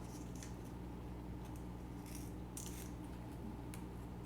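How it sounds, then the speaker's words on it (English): Dracaena bonsai roots being cut with shears, a few faint, short snips scattered over quiet background. "so I'm going to cut this one now this way and see if we can get some finer roots from there"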